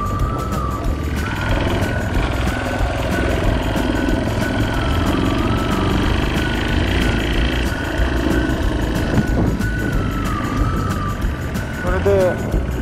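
A Yamaha Serow 250 motorcycle rides a mountain road toward the Kumotori trailhead on the Tokyo–Yamanashi border, its engine droning steadily and loud throughout under buffeting wind, with someone talking over it.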